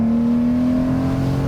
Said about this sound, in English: revving this out to 7 has taken some considerable effort